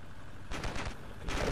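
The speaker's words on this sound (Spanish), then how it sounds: "Mira cómo está el fuego ahí, los disparos y todo." Gunfire in the video game Ravenfield comes in two rapid bursts separated by a short pause, a fairly quiet fusillade of shots with no one talking.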